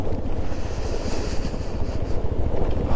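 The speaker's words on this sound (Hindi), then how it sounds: "इतनी तेज हवा चल रही है, ठंडी, बहुत ठंडी हवा चल रही है भाई" A strong, very cold wind blasts past on a mountain motorcycle ride on the Sach Pass to Tandi road. It buffets the microphone as a loud, continuous roaring rush with uneven gusts throughout.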